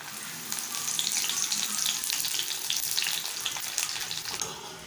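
Curry leaves frying in hot oil for kara boondi give a steady, bright crackling sizzle that holds at an even level throughout, with no talking.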